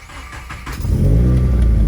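A 2015+ Subaru WRX engine cranks and fires after a short quiet lull, then settles into a loud, steady idle rumble close by; the car is being checked for an idle chirp noise.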